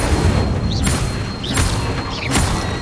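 Spell effects from the video game Hogwarts Legacy boom and burst in three evenly spaced blasts over a constant rumbling game soundscape, each with a bright whooshing flare as the Incendio fire spell is cast in combat.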